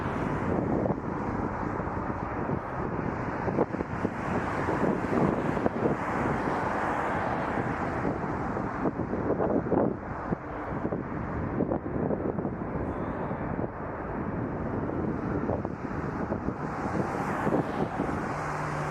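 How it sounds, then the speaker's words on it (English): Steady, roaring wind buffets the microphone outdoors at Toronto Pearson Airport, a constant broadband rumble with no pauses. "It is very windy and noisy out here"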